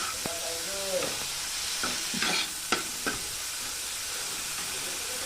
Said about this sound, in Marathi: छान असं आलटी पलटी करत हेही आपल्याला परतून परतून भाजून घ्यायचंय